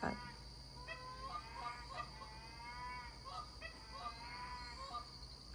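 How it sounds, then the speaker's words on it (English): Several geese honk repeatedly and excitedly in overlapping bursts, somewhat distant, over a low outdoor background hum, in Wisconsin countryside. "There are some geese going bonkers."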